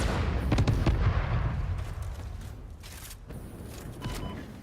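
A bomb goes off in the video game Satisfactory with a loud, rumbling blast at the start that decays into a long, dull roar, with a few sharp cracks and no speech.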